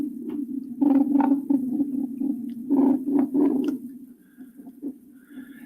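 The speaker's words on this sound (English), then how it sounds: "these are two mantis shrimp purring to each other, courting each other" Two mantis shrimp purring to each other while courting underwater, heard as low, throbbing rumbles in irregular bursts that swell and fade over a few seconds, with no voices.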